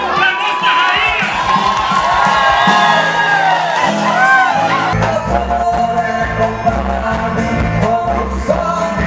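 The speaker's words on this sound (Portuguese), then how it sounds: "Uma salva de palmas para nossa rainha." An audience at a Paraguayan community dance event in Campo Grande cheers loudly for the singer, with whoops, shouts and crowd noise running on throughout.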